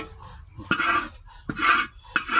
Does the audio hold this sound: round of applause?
no